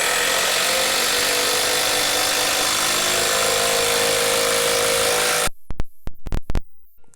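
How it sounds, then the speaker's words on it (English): A Milwaukee 3/8 inch impact wrench runs with a loud, steady, close-up whir for about five and a half seconds, then cuts out into a few short, sharp bursts. "So here's the 3/8 impact wrench"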